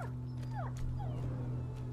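A dog whimpers and yips in short rising and falling cries over a steady low hum in the video game A Plague Tale: Innocence.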